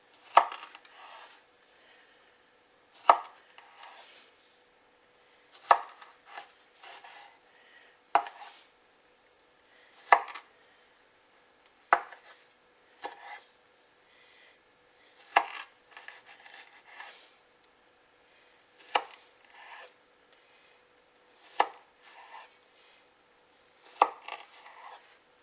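A sharp knife cuts through rolled puff pastry palmiers on a board, giving a long series of distinct thuds against the board, irregularly spaced every couple of seconds, some with a soft scraping rub, close and quiet with no voices.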